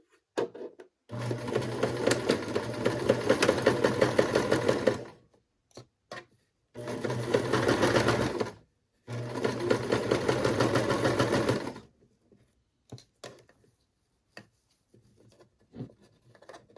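A sewing machine stitches a zipper-pocket scrunchie in three steady runs of fast mechanical whirring, each several seconds long, separated by short pauses and small clicks of fabric handling, close and clear with no talk.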